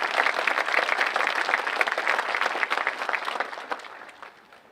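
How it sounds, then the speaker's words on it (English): An audience applauding at a high school graduation ceremony, with a dense burst of many hands clapping that holds for several seconds and then fades away. "So how about a round of applause?"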